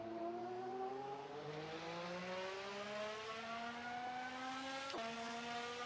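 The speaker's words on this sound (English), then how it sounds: "You can hear the battery die, the revs die on you" A Haas VF-26 Formula 1 car in Assetto Corsa drives through Eau Rouge at Spa. Its engine hum is steady and tonal, rises in pitch and then drops off as battery power and revs fade, followed by a brief shift blip near the end.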